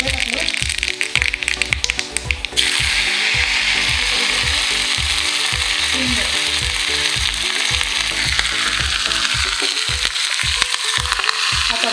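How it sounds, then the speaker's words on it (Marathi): Mustard seeds sizzle in hot oil in a kadhai while a tempering is made for kadhi, a steady loud frying hiss with rapid crackling pops throughout, briefly covered by a sharper burst of crackle near the start. "कढईत तेल गरम करायला ठेवलं आहे आपलं तेल गरम झालं आहे त्यात आपण मोहरी टाकली आहे"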